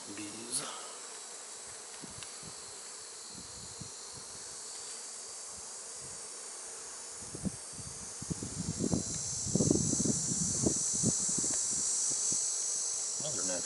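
Honeybees hum steadily at an open beehive while pollen-laden bees and natural comb are inspected, a constant close buzz with some rustling and handling noises, and a person speaks quietly partway through.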